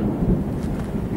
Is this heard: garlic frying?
no